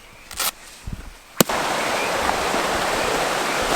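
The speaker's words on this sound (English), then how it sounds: "That's a big river, bro." A big river rushes in a steady, loud broadband roar at a riverside campsite, kicking in abruptly after a few faint knocks and a sharp click.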